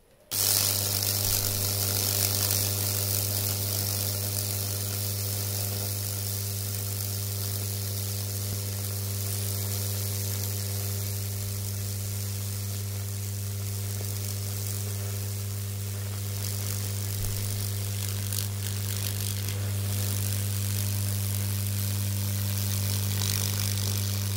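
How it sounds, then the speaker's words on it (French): An electrical transformer running for Lichtenberg wood burning gives a steady, loud mains hum with a buzzing hiss on top, continuous and unbroken for about twenty-four seconds with no voices. "je vais mettre en route le transfo et vous allez voir ce que ça donne"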